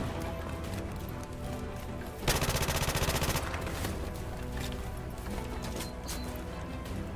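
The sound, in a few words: P90 submachine gun hip fire, from the video game Call of Duty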